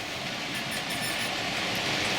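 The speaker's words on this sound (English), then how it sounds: "the other one is the 37 engineers train going around pressure washing" A model train, the 37 engineers pressure-washing track-cleaning car, runs around a layout, giving a steady, fairly loud hiss and rumble with faint whining tones and no voices.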